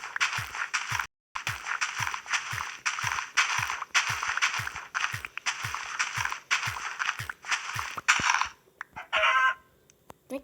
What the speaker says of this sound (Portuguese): Cadê a galinha?